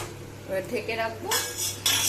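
Metal lid set onto a pot of cauliflower curry cooking with spices and a little water on a home stove, giving a couple of clanks and clinks of metal cookware, close and moderately loud, with no talk.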